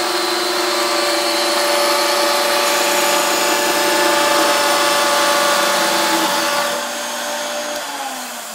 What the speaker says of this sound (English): operate the drill.